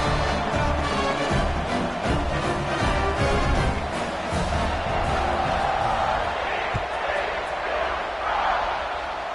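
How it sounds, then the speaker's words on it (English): Stadium crowd at a college football game keeps up a steady, loud roar and buzz through the whole stretch, with a commentator talking over it. "this crowd is buzzing after that last score"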